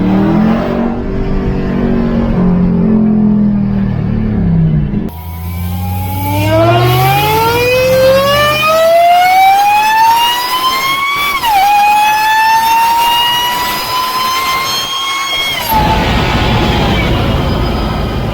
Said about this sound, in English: a massive amount of whine coming from the engine bay